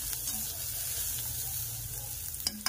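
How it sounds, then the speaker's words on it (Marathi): Dubuk vada lightly roasting in a pan makes a soft, continuous low sizzle, with a couple of quick utensil scrapes near the end. "हलकं असं भाजायचं"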